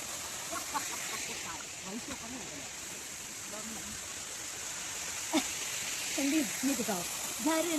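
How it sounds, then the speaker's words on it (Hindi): A seasonal monsoon waterfall beside a hillside hotel garden in Nainital gives a steady wash of flowing water, with birds chirping now and then and brief voices over it in the later seconds. "सुबह सुबह चिड़ियाएँ और झरने की आवाज़, पानी की आवाज़"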